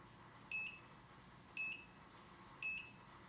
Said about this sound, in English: Wait for the alarm.